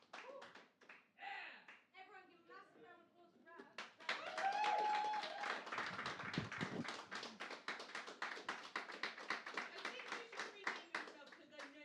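Audience applause after a live music performance, starting sparse and scattered, then swelling into steady, fairly close clapping that carries on to the end, with a voice speaking briefly at the start.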